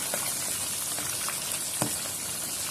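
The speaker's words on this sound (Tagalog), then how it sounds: "luto ng ating piniritong isda" Salmon frying in a pan, a steady dense sizzle with occasional small pops and spatters, close and constant with no talking.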